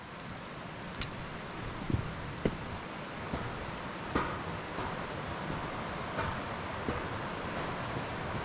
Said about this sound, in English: We got another creek crossing here on this cool bridge.